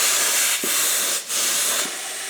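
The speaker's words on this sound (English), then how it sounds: "This is not a great inflator nozzle here." A Milton air inflator hisses continuously through its nozzle into a bike inner tube, a steady loud rush broken by a few short pauses.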